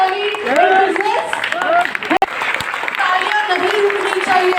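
A crowd at a DXN anniversary seminar in Mathushri Hall, Marine Lines, Mumbai, keeps up loud applause under a voice that talks or sings over it, broken by one brief sharp cut.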